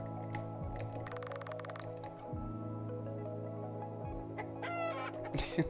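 Chicken clucking from an RPG Maker video game, a few clucks layered over steady looping game music with a low hum throughout.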